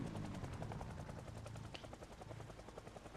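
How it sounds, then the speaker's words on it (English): A helicopter in Project Zomboid flies off, its steady rotor chop pulsing evenly at low volume and fading slightly with no voices over it. "Yeah, the helicopter's really flying away."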